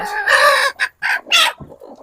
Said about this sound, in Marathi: पूर्णपणे कोंबड्या बसल्यात अंड्यांना